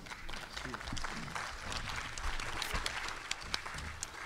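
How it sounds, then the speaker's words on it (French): Audience applause after a lecture on the painter Guillaume Guillon Lethière in Guadeloupe: soft, sustained clapping from a room full of people, fairly faint, with a voice speaking over it. "De vibrants applaudissements pour ce travail de qualité, d'excellence."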